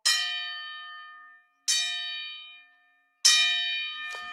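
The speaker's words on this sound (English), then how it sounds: "Let me give you a Kamal Oz gong" Gong sound effect struck three times in a row, each hit ringing out bright and metallic before fading away, the last one followed by a quick extra clang.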